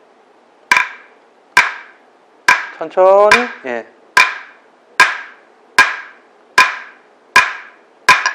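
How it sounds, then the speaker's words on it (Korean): A metal hammer taps the back of the blade of a Japanese wooden hand plane in even, sharp knocks, about nine loud close strikes with ringing decays, and a voice briefly speaks midway. "망치를 어미날을 쳐서"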